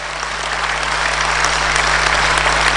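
Political rally audience giving a rousing round of applause for the NDC national chairman, heavy crowd clapping that builds slightly in loudness, over a steady electrical hum.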